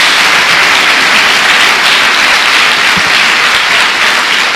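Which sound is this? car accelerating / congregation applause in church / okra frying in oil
congregation applause in church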